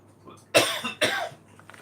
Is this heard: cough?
yes